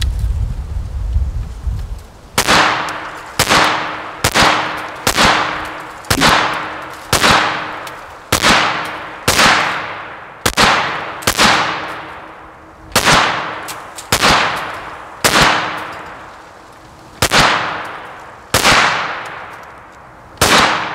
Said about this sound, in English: we're gonna have some can destruction, and we're gonna see if a P90 will punch a can